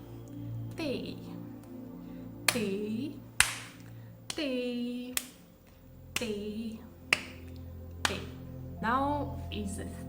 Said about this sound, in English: we need this second clap of the same beat